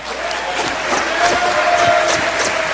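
An audience applauds and cheers for Mike Rudoy at a Princeton hip-hop symposium, a dense steady wash of clapping and crowd noise with scattered whoops, sustained and fairly loud throughout.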